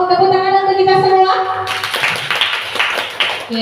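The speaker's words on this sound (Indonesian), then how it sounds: "Selanjutnya ada yang masih mau tepuk tangan untuk kita semua?" An audience at a school dissemination event breaks into applause after a drawn-out voiced tone, a dense burst of many hands clapping close by for the last couple of seconds.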